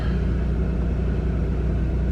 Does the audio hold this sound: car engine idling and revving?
yes